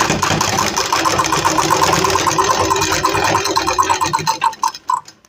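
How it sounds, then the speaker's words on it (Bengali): Sewing machine stitching the sleeve seam of a kurti, a fast steady mechanical whir with a rapid stitch rhythm, close and loud, slowing into separate stitches and stopping near the end. "যে সেলাইটা আমি খুলে গেছিলাম সেই সেলাইটা আমি আবার করে নিচ্ছি"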